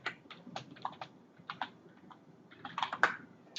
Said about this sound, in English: All right, so I'm just typing in.